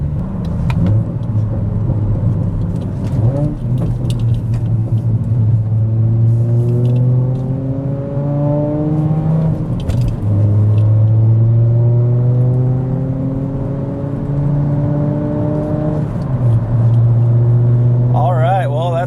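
A car driving on the road after its lower control arms were replaced with polyurethane bushings: a loud, steady engine rising in pitch through repeated accelerations and gear changes, with a road rumble underneath.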